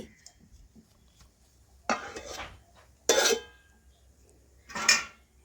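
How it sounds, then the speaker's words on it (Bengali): Three separate metallic clanks ring out in a quiet kitchen as a lid is set on a cooking pan of simmering vegetables, each short and bright, spaced about a second apart. "এখন আমি দুই থেকে তিন মিনিটের জন্য ঢাকা দিয়ে রেখে দেব"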